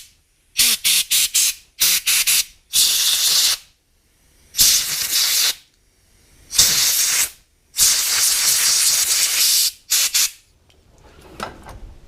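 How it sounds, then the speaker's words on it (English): An air hose blows off a valve part from an animatronic robot drummer project in a series of sharp hissing bursts, some short and some a second or more long, separated by quiet gaps. "then I blow it off with the hose as well."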